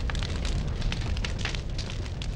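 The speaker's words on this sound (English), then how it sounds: "The palace is on fire!" A palace burning in an animated children's story, a loud continuous roar of flames with crackling pops throughout, close and alone with no voices.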